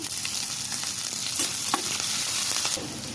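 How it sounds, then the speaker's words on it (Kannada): Green chillies fry in hot oil in a pan for spring roll filling, a continuous loud hiss and crackle with a few soft stirring scrapes, close up and with no talking. "ಇದು ಚೆನ್ನಾಗಿ ಫ್ರೈ ಮಾಡ್ಕೋಬೇಕು ನಾವು ಇವಾಗ ಗ್ರೀನ್ ಚಿಲ್ಲಿ ಹಾಕೋಣ"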